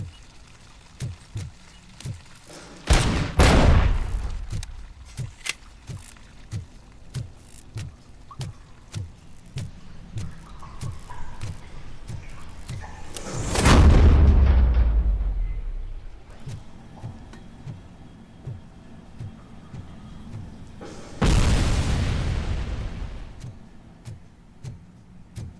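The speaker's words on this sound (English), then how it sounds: "I don't like being hit with grenades." Three heavy booming grenade blasts in the game RoboCop: Rogue City, set in a sewer, spaced well apart and each swelling then fading, over a steady backdrop of faint rhythmic footsteps and ambient rumble.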